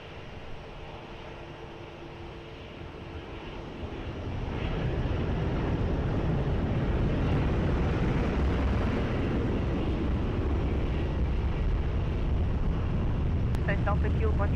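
Ryanair airliner taking off from runway 20 at Lisbon Airport, a broad roaring jet rumble that swells after a few seconds and holds loud and steady, with faint radio chatter underneath.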